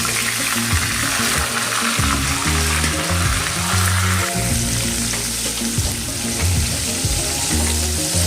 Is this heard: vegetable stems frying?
yes